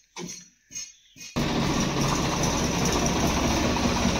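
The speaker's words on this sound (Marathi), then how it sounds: "आणतोय ट्रॅक्टर इकडे" A tractor engine idling steadily and loudly up close, starting abruptly after a few quiet moments with faint sounds, a continuous low rumble with vibration on a farm while the tractor is brought over to be hitched.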